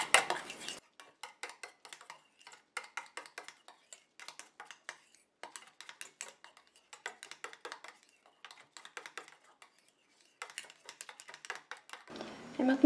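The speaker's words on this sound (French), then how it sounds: "Je commence déjà à mélanger comme ça à la main." Quick clinking and tapping of a utensil against a bowl as body mousse ingredients are stirred by hand, in irregular bursts close by, with a voice speaking faintly at the start and end.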